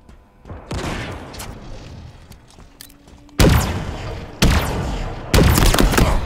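Heavy gunfire in Halo Infinite during a Fiesta match on the Recharge map: dense, loud bursts of shots and booms, growing into three sharp, powerful volleys near the end.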